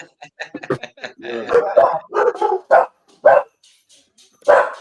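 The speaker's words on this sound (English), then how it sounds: "No need for anything to be barking." A dog barks and yips several times in short bursts, close by, mixed with a person talking.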